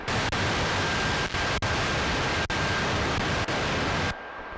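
Type C lo-fi noise algorithm from the Artifacts iPad app: a steady, darker broadband hiss with a faint tonal hum, broken by a few brief dropouts, then cutting off abruptly near the end.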